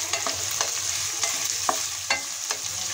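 Chopped onion and green chillies frying in oil for chicken biryani, a steady bright sizzle with light spatula scrapes and taps throughout, close with no talk.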